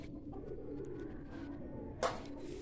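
Soft, low cooing from a sluggish pigeon close by over a steady background, followed by a brief sharper rustle near the end.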